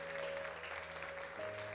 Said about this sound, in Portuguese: Vamos aplaudir todo esse povo maravilhoso?